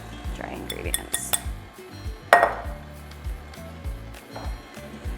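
Cake batter for a Fruity Pebbles cake being stirred in a bowl, with a utensil clinking and scraping against the sides in quick irregular knocks, close by and moderately loud, a brief louder clink midway.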